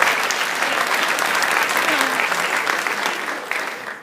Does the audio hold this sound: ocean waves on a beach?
no